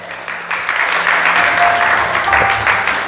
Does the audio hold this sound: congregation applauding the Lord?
yes